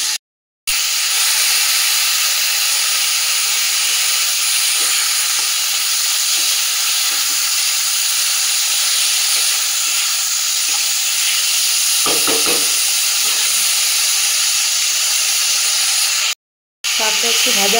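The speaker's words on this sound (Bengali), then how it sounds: "শাকটা একটু ভাজা হয়ে গেছে" Pumpkin greens seasoned with salt and turmeric frying in a pan, giving a steady, loud hiss and sizzle that runs almost unbroken, with a few soft stirring scrapes near the end.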